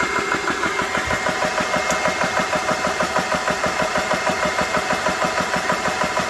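Air compressor running before filling a Marauder pellet rifle, its motor and fans giving a steady close drone with an even, fast pulsing rhythm throughout and no talking.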